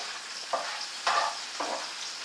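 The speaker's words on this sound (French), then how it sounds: "On va le faire revenir un peu à la chaleur et à la graisse." Food sautéing in hot fat in a pan, a constant close sizzle broken by three louder bursts of stirring or tossing spaced about half a second apart, with no speaking.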